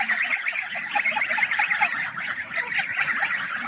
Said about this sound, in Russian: Гуси, гуси!